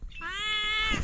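A single clear, drawn-out cat meow, close by and fairly loud, rising slightly and lasting about a second.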